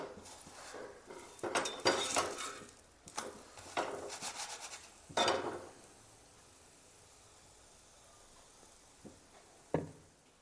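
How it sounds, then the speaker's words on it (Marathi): Oil being spread with a utensil over an aloo methi paratha on a hot pan, giving soft scraping and rubbing strokes, busier in the first five seconds, then quiet apart from a couple of brief taps. "आता मी याच्यावर तूप नाही, तेल सोडणार आहे। असं छान असं तेल पसरून घ्यायचं"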